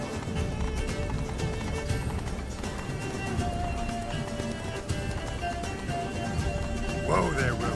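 Hoofbeats of Geralt's horse Roach galloping in The Witcher 3: Blood and Wine, a steady rolling clip-clop under a dense game soundscape, with speech-like voices mixed in and a brief whinny-like cry near the end.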